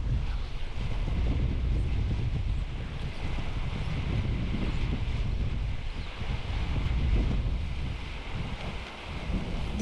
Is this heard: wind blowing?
yes